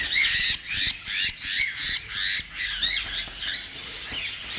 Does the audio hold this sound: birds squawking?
yes